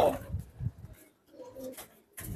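Pigeons coo softly in a loft, low murmuring calls coming in a few short bursts with brief pauses, close and fairly faint.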